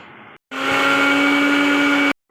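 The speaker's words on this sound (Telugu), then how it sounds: "ఇప్పుడు గోంగూర వేసుకొని మళ్ళీ మిక్సీ వేసుకుందామండి." A mixer grinder whirs loudly, blending gongura leaves for Andhra-style chutney, with a steady high-pitched hum for under two seconds, preceded by a short quieter burst, then cuts off abruptly.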